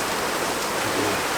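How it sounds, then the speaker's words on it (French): A rain shower falls in a dense, even hiss, loud and continuous, with no voices over it. "Mais ça pleut, il pleut."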